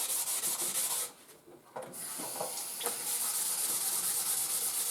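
Close, raspy strokes of 400 grit sandpaper rubbing back and forth, with a short pause in the middle before the scratchy sanding resumes at a steady pace.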